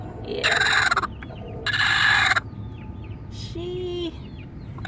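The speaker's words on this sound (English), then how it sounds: "I think we might have a broody hen." Broody hen giving loud, harsh bursts of clucking and squawking up close, two long noisy calls followed by a shorter, softer one, with brief speech in between.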